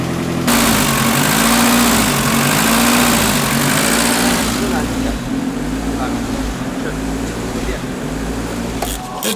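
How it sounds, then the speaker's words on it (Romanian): A car engine idles roughly and unevenly, a loud, lumpy, pulsing drone that sits close to the microphone for several seconds and then eases slightly before a few knocks at the end. "de ce merge așa motorul hâhâit?"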